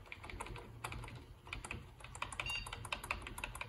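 Steady typing on a computer keyboard hooked up to an Acer Aspire Z3100 PC, a fast stream of sharp nearby clicks over a faint hum, with no speech.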